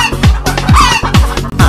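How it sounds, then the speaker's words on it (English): A hen clucks in a repeated rhythmic pattern, about four clucks with a steady beat, loud and close, alone with no talking. "H for hen"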